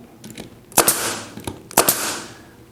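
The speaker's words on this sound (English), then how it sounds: "So let's see what this 16 gauge nailer can do" A Metabo 16 gauge pneumatic finish nailer runs on an air hose at just under 100 PSI, driving 1.5 inch nails. Two sharp, loud pops sound close by, each followed by a short hiss, with fainter clicks in between.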